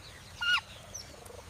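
A blue peafowl at a breeding farm gives one short, fairly loud honking call, heard alone against a faint background with no talking.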